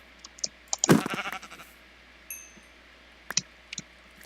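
Sheep bleating in Minecraft: a loud, wavering bleat near the start, followed by scattered clicks and short blips from the game, with no talking.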